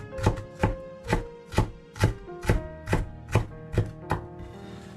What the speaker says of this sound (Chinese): 姜切成片之后再切成丝，最后切成末，放到盘里